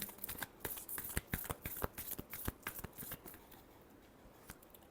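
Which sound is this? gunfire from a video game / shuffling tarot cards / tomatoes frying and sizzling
shuffling tarot cards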